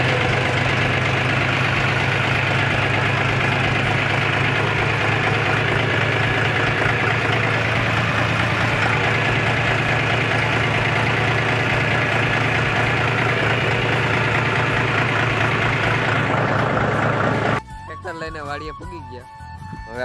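A tractor engine idles with a steady low rumble and slight knock, loud and close and running continuously, then cuts out near the end, leaving quieter background sounds.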